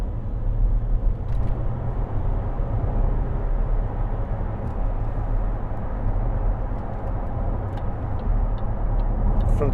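A Range Rover Sport 3.0 SD V6 HSE Luxury is driven on the road, heard from inside as a steady, even low engine and road rumble with no talk.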